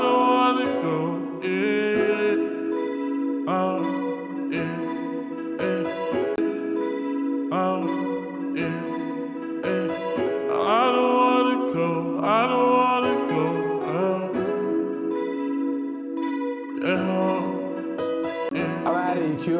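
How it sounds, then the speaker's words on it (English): Layered sung vocals drenched in heavy reverb and chorus-like effects over a 2000s R&B-style beat, with steady rhythmic stabs and continuous washy sustain throughout. "I'm gonna add a lot of reverb to it."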